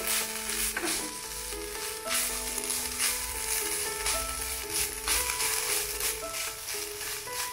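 Grated coconut roasts in desi ghee in a pan over a low gas flame for a suji coconut ladoo, with a soft, steady sizzle and repeated scraping strokes of stirring at close range.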